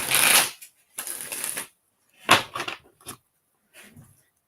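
A deck of playing cards shuffled up close: several quick riffling bursts separated by short pauses, loud and clear with no talking.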